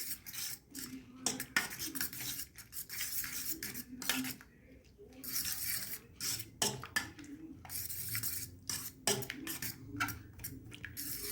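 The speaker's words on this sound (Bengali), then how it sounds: "এবার কাঁটা চামচের সাহায্যে একটু ওটাকে ফেটিয়ে নিচ্ছি" An egg being beaten with a fork in a bowl, rapid rhythmic metallic clinks and scrapes against the bowl, close and steady with a brief pause partway through, no speech over it.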